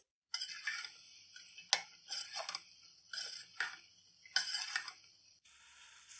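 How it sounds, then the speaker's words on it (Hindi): Ridge gourd (tori) sabzi is stirred in a pan with no added water, heard as close, quiet scraping and clinking strokes in a repeating rhythm with a soft sizzle between them. "अच्छे से हम इसको मिक्स कर लेंगे"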